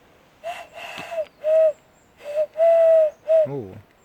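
A person imitates an owl out in the wild, voicing a series of short hooting calls with pauses between them and ending on a wavering, descending hoot, close and clear.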